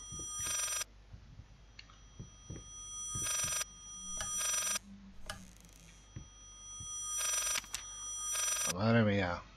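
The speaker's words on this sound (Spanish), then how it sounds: "Un teléfono." An old telephone rings in the horror video game Layers of Fear, repeated shrill bell bursts separated by gaps over eerie ambience with ticking clicks, followed by a voice speaking.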